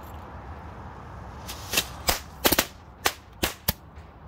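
Funke Knallfrösche jumping firecrackers, caliber B, go off outdoors in a string of about nine sharp cracks, clustered irregularly over a couple of seconds, fairly close against quiet background noise.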